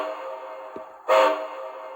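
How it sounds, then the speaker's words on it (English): Short whistle on a Bachmann Spectrum HO scale 2-10-2 USRA Light steam locomotive model, Santa Fe 986, a single brief toot after a faint click, standing clear over a steady low hum. "F3 is the short whistle."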